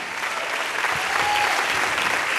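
A church congregation applauding for Jesus, a dense, steady wash of many hands clapping together for a couple of seconds, fairly loud and close.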